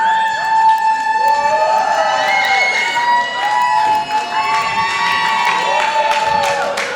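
Ringside crowd at a New England professional wrestling event cheering and shouting, with piercing whistles and yells rising over a dense, loud roar.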